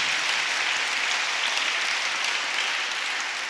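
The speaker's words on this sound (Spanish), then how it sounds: "Un aplauso a nuestro Dios." A church congregation applauds together in steady, dense clapping that stays loud and even throughout, with no voices above it.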